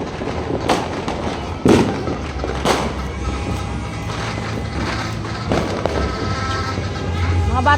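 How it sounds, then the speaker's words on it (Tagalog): Fireworks crack and pop in scattered bursts over a steady background rumble, with a few sharp bangs standing out and voices faintly mixed in, on New Year's Eve into January 1. "Takot ako sa mga paputok na yan."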